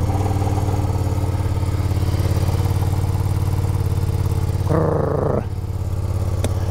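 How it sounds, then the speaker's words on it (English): A cold Ducati motorcycle's high-performance Superquadro engine runs at a fast, high idle, a steady loud close drone throughout with a brief change in tone near the end and no talk. "Bit of a high idle because it's a little cold, but also it's a fairly high performance engine in there."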